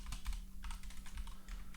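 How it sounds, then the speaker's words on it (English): Quiet clatter of fingers typing on a computer keyboard during a C++ programming lecture, a steady run of light key taps with no voices over them. "Lots of typing here."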